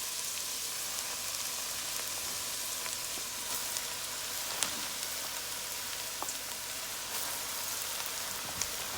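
Malabar spinach dropped into a hot cooking pot over cooked ingredients, giving a steady, close, even sizzle and hiss with a few faint crackles and no voices.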